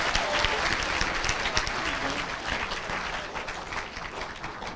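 An audience at an eighth-grade school spelling bee applauds a contestant, a steady spatter of many hands clapping that thins slightly toward the end, with faint speech underneath.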